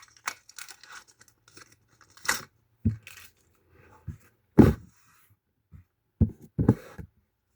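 A Panini FIFA 2026 sticker card pack being torn open by hand, with scattered short rips and crinkling bursts of foil wrapper separated by quiet pauses, close and fairly soft.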